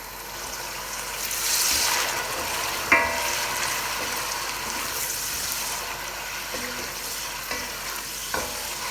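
Onions, garlic and ginger fry in a pan as a little water goes in, giving a soft, steady sizzle with occasional clinks and stirring scrapes, fairly quiet and close.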